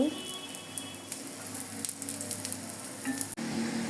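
Bobbatlu flatbread frying in ghee on a hot pan, a steady close crackling sizzle with small pops and a brief clatter near the end, faint voice in places.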